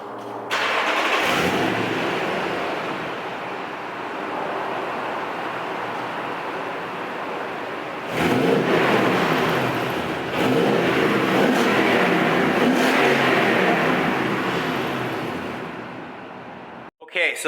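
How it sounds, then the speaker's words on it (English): A Toyota Tundra pickup fitted with an aftermarket exhaust fires up and settles into a deep, steady idle, then is revved several times with rising and falling bursts. The engine is loud and close, with no talk. "let's go ahead and start the truck so you guys can listen to it."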